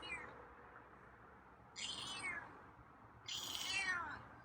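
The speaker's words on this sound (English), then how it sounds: "Yeah, it's a fancy meow" A feral cat gives two drawn-out, raspy meows close by, separated by a short pause, over quiet background.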